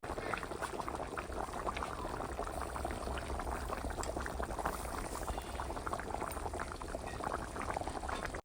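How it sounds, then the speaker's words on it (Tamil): Mackerel fish curry boiling in a pot, a continuous close bubbling and popping with no talk over it. "குழம்பு நல்லா கொதிச்சிச்சு"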